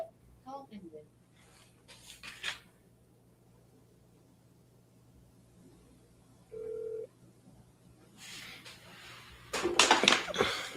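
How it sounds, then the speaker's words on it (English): A voicemail system's recording beep, one short steady electronic tone sounding alone mid-clip against a quiet line, with brief clicks and rustling noises before and after. "At the tone, please record your message."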